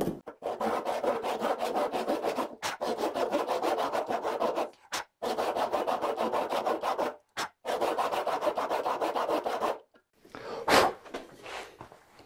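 A hand saw crosscuts a piece of wood in close, rasping strokes, three long bursts of steady back-and-forth sawing separated by short pauses, then a brief scrape as the work stops.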